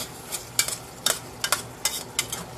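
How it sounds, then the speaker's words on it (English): A utensil stirs browning ground meat in a skillet for Mexican stuffed shells, giving several sharp scraping strokes in an uneven rhythm over a faint low sizzle, close and fairly quiet. "let me go ahead and stir this some more"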